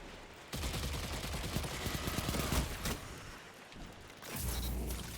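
Osteo Striga submachine gun in Destiny 2 firing a steady rapid burst of shots, close and loud, that cuts off briefly and then resumes for a shorter final stretch, with no talking.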